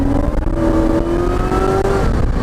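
A Porsche 944 fitted with a General Motors LS1 V8 accelerates hard, the engine note climbing steadily in a loud, close, continuous roar with no voices.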